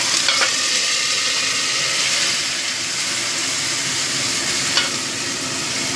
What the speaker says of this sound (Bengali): এবার এই তেলের মধ্যে আদা আর কাঁচা লঙ্কা বাটাটা দিয়ে দিলাম